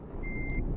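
Truck reversing alarm in Euro Truck Simulator 2, a single steady electronic beep over a low rumbling engine drone.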